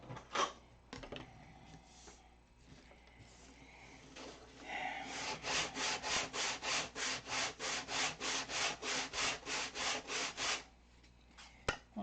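A wooden piece is sanded with sandpaper on a block, first as scattered light rubs and then as a run of about fifteen even, rhythmic back-and-forth strokes close by. A few clicks come at the end.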